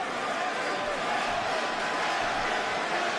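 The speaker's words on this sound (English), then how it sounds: "Looks like this California crowd starting to get behind Henry Cejudo now" A large California crowd at a UFC event roars in a dense, sustained wash of cheering that stays loud and steady, with a voice talking over it.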